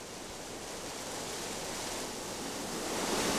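River water channelled down an irrigation ditch onto the drive wheel of a restored hydraulic sawmill in the Pyrenean village of Areu, a steady dense rushing roar, constant and fairly close.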